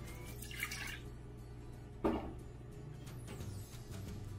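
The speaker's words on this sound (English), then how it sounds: "Put in 1 cup of water." One cup of water poured into an Instant Pot, heard as brief splashing and dripping pours, quiet and close over a faint steady hum.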